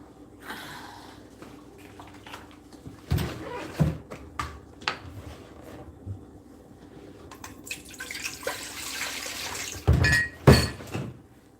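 Water from a kitchen tap runs into a sink during dinner preparation, starting in scattered splashes and thuds and then settling into a steadier rush that swells near the end.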